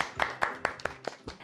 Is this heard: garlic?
no